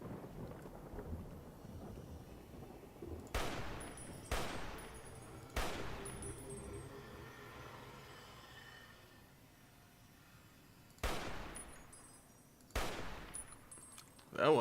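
Sniper rifle sneak attack shots in Fallout: New Vegas, five sharp booming cracks with long rumbling tails, spaced a second or more apart in two groups, loud over a quiet ambient background.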